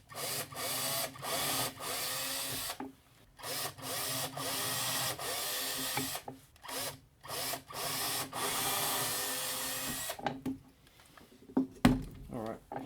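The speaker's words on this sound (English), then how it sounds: "So we'll get those drilled out with a pilot hole." A power drill bores pilot holes in a DIY phone head mount, whirring in several steady bursts with short pauses between them, close and loud.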